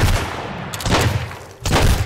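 Pistol gunfire in the Sunkenland video game, with three or four loud, sharp shots close together that ring out against a noisy battle background.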